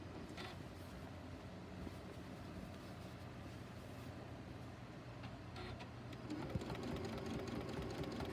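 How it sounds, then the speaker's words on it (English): A sewing machine top stitching a quilted tree skirt, a steady, fine mechanical whir running throughout at moderate level, close by with no talk. "I'm letting the machine do the work."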